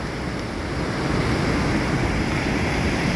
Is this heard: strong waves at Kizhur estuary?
yes